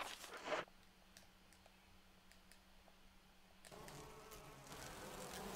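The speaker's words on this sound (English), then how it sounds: "let's kill all these bees right here" A swarm of bees buzzes in Resident Evil HD Remaster, a steady low drone running under ambient game noise, with a brief louder burst at the start and a rise in background sound near the end.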